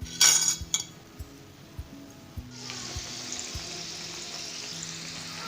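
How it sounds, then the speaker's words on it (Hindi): Laung lata sweets deep-fry in a pan of hot oil with a steady bright sizzle, opening with a few clinks of a utensil against the pan, then bubbling louder and continuing evenly. "इसी तरह हम बाकी भी फ्राई कर लेंगे।"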